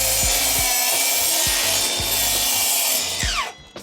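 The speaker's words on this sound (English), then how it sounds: "you can use just a regular saw with a regular saw blade" A saw bites through PVC cellular composite siding with a continuous harsh rasp, punctuated by rhythmic stroke thumps about twice a second, close and loud, before the cut finishes and the noise drops away.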